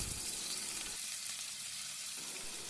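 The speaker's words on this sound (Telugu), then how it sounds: "ఆయిల్ వేడైన తర్వాత ఈ చికెన్ ముక్కలన్నిటిని ఇందులో వేసేసుకుందాం." Chicken pieces frying in plenty of hot oil in a pan; a continuous, close, even sizzle with a soft crackling texture holds at a steady level throughout, with no voices.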